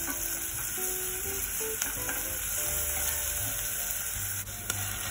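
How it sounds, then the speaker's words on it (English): Chopped onions sautéing in oil in a pan over a very low flame, a continuous close sizzle with stirring scrapes and light crackles, no talking. "Heat oil in a pan on a very low flame. Add chopped onions,"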